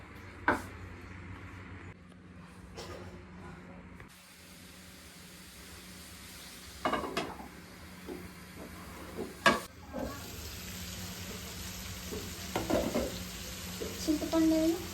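Green chillies and onions frying in oil in a home kitchen, a steady soft sizzle throughout with occasional stirring clatter and faint background voices.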